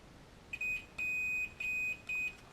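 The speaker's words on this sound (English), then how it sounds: "So if we do a quick continuity check on what I've soldered," Four steady electronic beeps from a multimeter on continuity test across solder joints of an LED circuit repaired inside a pair of boots, each tone lasting about a third of a second with short gaps, clear and close in a quiet room.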